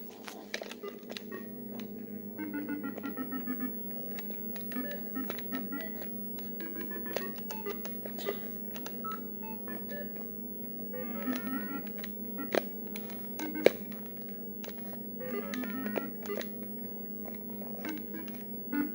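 Atari 2600 Crystal Castles game audio plays bleepy electronic level sounds: rapid clicks and short tonal chirps in irregular bursts over a steady low hum.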